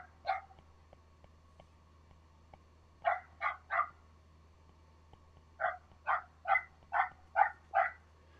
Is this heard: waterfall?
no